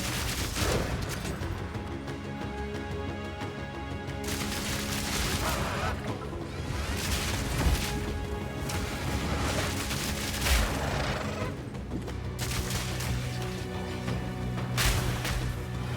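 Repeated grenade blasts from Path of Exile 2 boom and crackle in dense overlapping bursts over a busy, steady game soundscape, with a voice talking at times.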